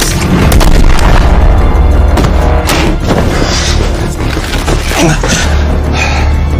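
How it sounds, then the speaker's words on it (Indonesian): A loud action-film shootout with dense, booming gunfire and impacts filling the scene continuously, heavy and close, with some voices mixed in. "Tanpa diduga, Cash langsung ditembak mati. Namun untungnya terkena pada rompi peluru. Dia pun langsung membalas."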